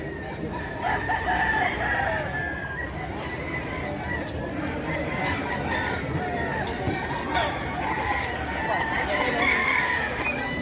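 Roosters crow repeatedly at the busy Bocaue pet market, a fowl-selling hub, their calls rising over a dense, steady crowd murmur with people talking throughout.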